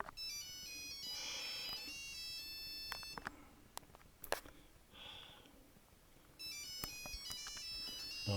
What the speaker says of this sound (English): Excuse me Jim, there's the phone going